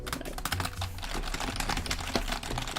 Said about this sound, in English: Fill up the orange workload bar by key mashing as fast as possible